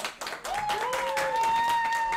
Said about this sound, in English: from now on, I expect an applause.